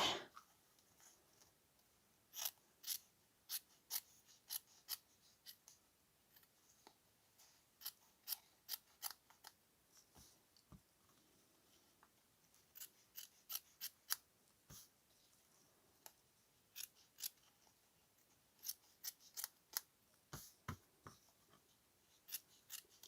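Crisp snips of scissors cutting paper, close and clear, coming in short clustered runs of several quick cuts separated by quiet pauses, with no talking.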